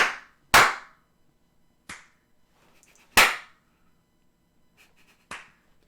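Loud hand claps in a clapping contest ring out one at a time: five or six sharp, close, dry cracks spaced irregularly over a few seconds, each cutting off into near silence with no talking in between.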